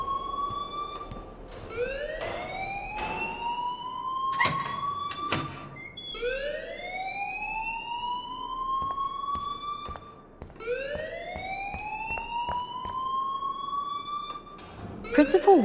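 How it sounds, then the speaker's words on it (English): An alarm in the game Life is Strange wails in rising and falling siren sweeps, repeating steadily and fairly loud, with a few sharp clicks and thumps in between. "please turn off that alarm since that's your job"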